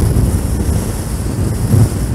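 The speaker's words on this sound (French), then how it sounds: "il y a un fort vent" Strong crosswind buffets a Suzuki V-Strom 650 motorcycle fitted with a Kappa Airstream windscreen on an open road, a steady loud rumbling roar of wind on the microphone with low gusts and no speech.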